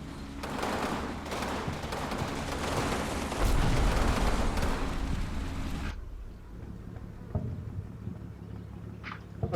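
Gunfire rattles in a World War II shooter game at Fortress Grosshau, dense bursts of shots and explosions rumbling together for several seconds before cutting off abruptly, leaving a few faint distant pops afterward.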